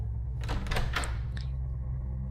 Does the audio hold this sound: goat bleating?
no